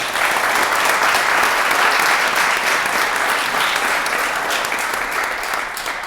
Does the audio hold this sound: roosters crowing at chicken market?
no